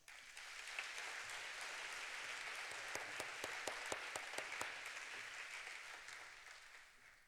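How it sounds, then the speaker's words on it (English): Sustained applause from a large crowd at a polytechnic graduation ceremony, a steady wash of clapping at even volume with a few crisp individual claps, fading slightly toward the end. "Let's first give them a big round of applause"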